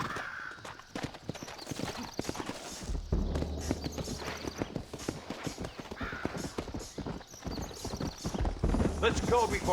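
Horse hooves clip-clop in Red Dead Redemption, with rapid hoofbeats, creaking tack and occasional whinnies over game music and ambient noise, and someone shouts briefly.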